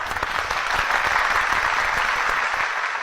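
Steady applause from a crowd at a family competition, honouring the champions, dense clapping that stays loud and even throughout with no voices rising above it.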